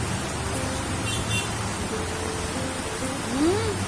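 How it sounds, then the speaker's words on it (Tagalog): Steady, dense typhoon rain roars continuously, with a faint vehicle-like tone rising briefly near the end. "malakas ang ulan"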